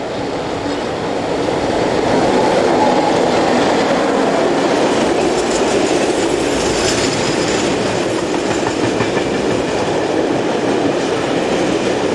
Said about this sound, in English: French locomotives, usually BB 16500s, also appear.